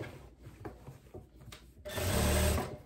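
A sewing machine runs a seam on a long dress with an elasticated waist, first in a few short stop-start bursts, then in a steady, louder whirring run of stitching near the end.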